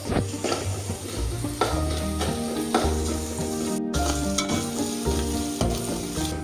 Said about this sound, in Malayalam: വീണ്ടും ഇളക്കണം. അപ്പോൾ ഇത് നല്ലപോലെ മൂക്കാനുണ്ട്.